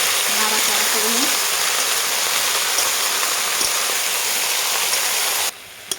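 Chopped vegetables are turned in hot oil with mustard-poppy paste for a Bengali chorchori, a dense continuous hiss of frying under a few faint spoon knocks, close, ending abruptly.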